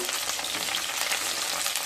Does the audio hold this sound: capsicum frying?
yes